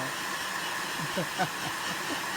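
Hair dryer blowing on a freshly bathed dog's wet fur, a constant airy whir at moderate distance with faint squeaks.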